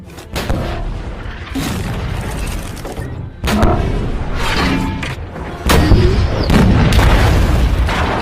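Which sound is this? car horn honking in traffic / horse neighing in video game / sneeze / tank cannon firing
tank cannon firing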